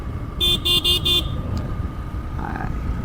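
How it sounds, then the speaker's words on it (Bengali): Stock horn of a Yamaha FZS 4.0 motorcycle blares four short, evenly spaced toots up close, followed by a softer, more distant horn beep over a low traffic rumble. "স্টক যে হর্ন আছে এটার সাউন্ড খুবই কম"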